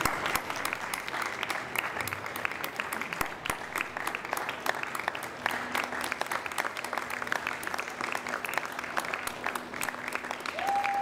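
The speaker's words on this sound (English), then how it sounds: "come on up for one more round of applause, please" Audience applause at a 2014 veterinary animal survivor celebration, steady dense clapping across the room throughout, with a faint tone creeping in near the end.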